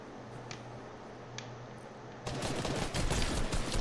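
Sniper rifle fire in a video game, with a couple of sharp, faint clicks early on, then a sudden loud burst of dense, crackling shots that continues to the end. No one speaks.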